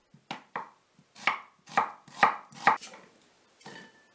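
Onions chopped into pieces with a knife on a cutting board, about eight crisp, close chopping strikes in an uneven rhythm, the middle blows strongest, then one lighter final cut.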